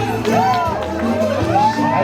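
Wedding guests at a reception make a steady, loud crowd noise with cheering and voices throughout, while a rising melodic tone sweeps above the babble and a low rhythmic beat pulses underneath.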